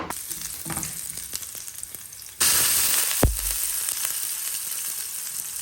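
Chopped onion and garlic hit hot cooking oil in a pan, bursting into a loud sizzle after a quieter start. A soft thump follows, then steady, close frying with no voices.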